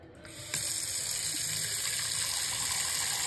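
A faucet starts abruptly and then pours in a steady, close stream, filling a bowl with water for soaking orchids. No speech.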